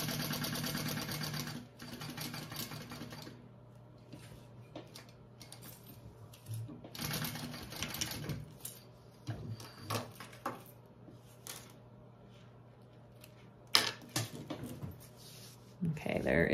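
A sewing machine top-stitches a zipper panel on a handmade bag in short bursts of motor whir separated by pauses, with light handling clicks and rustles. A voice can be heard between the runs.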